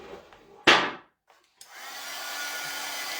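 A hair dryer switches on after a couple of sharp knocks and runs with a steady, loud, close whooshing roar to the end.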